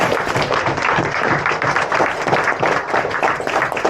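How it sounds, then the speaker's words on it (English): A group applauds two relay race team members at a Ridgeway Relay gathering, a close, brisk wash of clapping from many hands that holds steady from start to finish. "Big round of applause to Steve and Alan, who are more our team."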